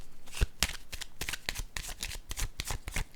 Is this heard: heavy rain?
no